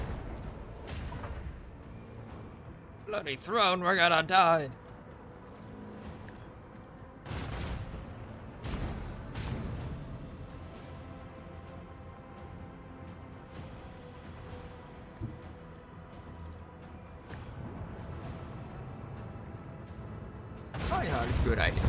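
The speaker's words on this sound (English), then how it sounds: "Engage the macro cannons!" Macro cannons fire in Warhammer 40K Rogue Trader with booming thuds and rumbling blasts spread across the stretch, a few louder bursts standing out, while voices speak between them.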